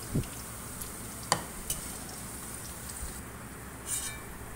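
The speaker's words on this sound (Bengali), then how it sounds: "ক্যাপসিকামগুলো আমার ভাজা হয়ে গিয়েছে। এবার ক্যাপসিকামগুলো তেল থেকে তুলে নিচ্ছি।" Capsicum frying in oil for a vegetable dal makes a quiet, steady sizzle, with a few brief clinks and taps from a utensil against the pan.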